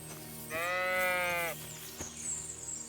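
A single drawn-out sheep bleat from the video game Kingdom Come: Deliverance II rises clearly over a quiet background hum, followed by faint higher sounds.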